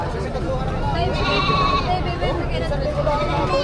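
Goats bleat among a crowd at a livestock market in Padre Garcia, Batangas, with several short cries over the steady babble of people talking.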